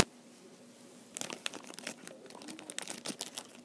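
A plastic My Little Pony Cutie Mark Magic blind bag is cut and torn open by hand, giving quiet sharp crinkling and snipping bursts close up, following a moment of near silence.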